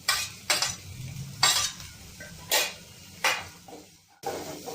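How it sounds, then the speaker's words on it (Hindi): Carrot, cabbage and capsicum stir-fried in a pan, with a spatula scraping and clinking against the metal in about six distinct strokes over a soft continuous sizzle, close up and with no talk. "अब इन सारी सब्जियों को मैं 30 सेकंड तक और कुक कर ले रही हूँ।"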